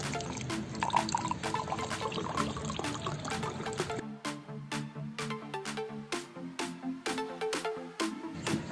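Water swirling and clinking in a container as salt is stirred into it, with rhythmic scraping and tapping strokes throughout.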